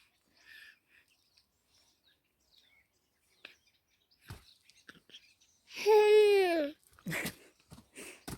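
Baby babbling while held on a lap, with a clear drawn-out vocal cry in the middle and short babbles after, amid faint scattered handling noises in a quiet room.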